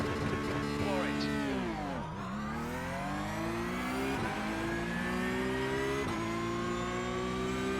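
A Porsche Cup race car in the iRacing sim roars off the start at Bathurst, its engine climbing through rising revs with brief dips at gear changes, loud and continuous, with other cars droning close by.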